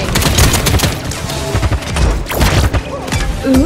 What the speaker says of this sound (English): Guys are firing on me.